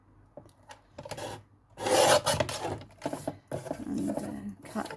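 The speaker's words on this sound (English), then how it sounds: "So let's just bring in my trimmer," A paper trimmer slices through autumnal patterned papercraft card stock for a handmade card. It makes several short, close rasping strokes mixed with paper rustles and handling sounds.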